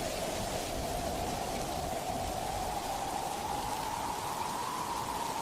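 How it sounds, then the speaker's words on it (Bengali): Rain pouring steadily during a flood, a dense, even hiss of heavy rainfall close by, continuous with no talking. "বৃষ্টি"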